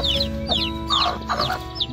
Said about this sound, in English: Little Ro, why do you not want to live in this coop?